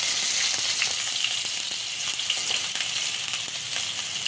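Ginger garlic paste and cumin seeds crackle in hot oil for a crab coconut masala. A steady, close, bright frying hiss runs throughout with small pops and no voices.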